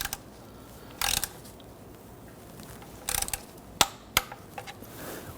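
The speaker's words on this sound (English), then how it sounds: "Go ahead and torque this to 29 foot-pounds." Short bursts of ratcheting clicks from a torque wrench tightening a bolt to 29 foot-pounds on an engine oil pan of a 1992-1996 Toyota Camry 2.2L I4, followed by a couple of sharp metallic clicks, in a quiet space.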